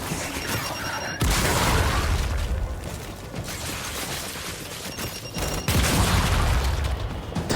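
Gears 5 shooter video game on Xbox One, with a dense, continuous roar of booming blasts and gunfire bursts and two sharp surges of heavier explosions, loud and close throughout.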